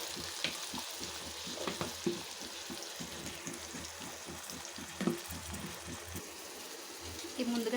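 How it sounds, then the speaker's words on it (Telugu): Ginger garlic paste frying in a pan, a steady close sizzle with frequent scrapes and taps of a spoon stirring, one sharper clack midway and a louder burst of sizzling at the end. "కొంచెం అల్లం వెల్లుల్లి పేస్ట్ పచ్చివాసన పోయేంత వరకు వేగనిద్దాము"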